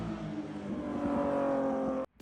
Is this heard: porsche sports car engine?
yes